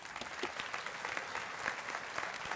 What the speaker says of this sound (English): So a big round of applause for our Ambassador of the Month for this month from Vocational Rehabilitation, Steve Wedding.